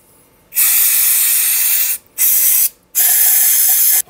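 Brake cleaner sprays in three loud, close hissing bursts with short pauses between them, used during a Morris Minor carburettor rebuild.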